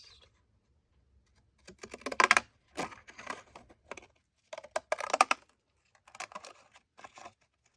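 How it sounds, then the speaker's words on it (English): Paper journaling card being trimmed, short crisp snips and rustles in a few close bursts over a quiet background. "Let's cut the bottom first."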